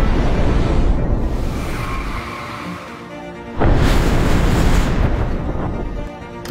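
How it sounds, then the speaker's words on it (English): A rumbling rush of noise swells, dips, then bursts into a sudden loud boom-like blast before fading, a Japanese bullet train making a tunnel sonic boom. "Japanese engineers are trying to solve one of their biggest problems, tunnel sonic booms"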